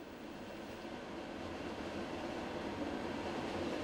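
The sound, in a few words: Heilbronn Stadtbahn S4 light rail train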